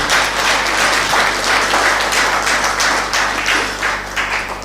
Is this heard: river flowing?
no